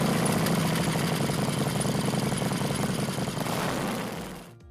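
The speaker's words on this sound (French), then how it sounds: "on regrettera également la sonorité de la moto aseptisée à l'origine" A 2016 Harley-Davidson Roadster 1200 motorcycle engine idles with a steady, subdued low rumble, unchanging for several seconds, then fades away and cuts off.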